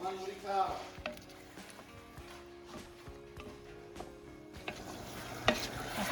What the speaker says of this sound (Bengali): আর এখন আমি কোরমাটা বসাই দিচ্ছি।